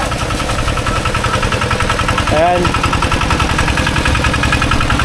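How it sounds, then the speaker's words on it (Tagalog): A water pump engine draws water up from underground at a fresh water pool, a steady mechanical chugging running throughout, close and loud, with a person speaking briefly over it. "So ito lang yung makina na kumukuha ng water doon sa ilalim."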